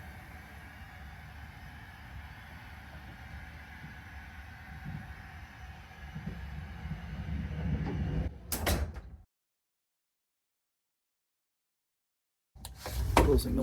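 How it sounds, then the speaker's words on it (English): A hydraulic garage door closes on a 2022 Bali 4.6 catamaran, giving a steady low mechanical rumble that builds, then a brief clatter as it shuts. Silence follows before another knock of sound starts near the end. "This hydraulically operated garage door can close in seconds"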